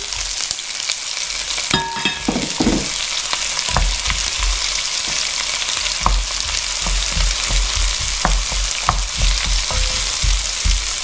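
Chunky onions fry in hot fat in a big pan for a chicken curry, a loud, dense, continuous sizzle close up, with scattered clinks and stirring knocks running through it and no talking.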